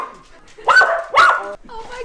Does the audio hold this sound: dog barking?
yes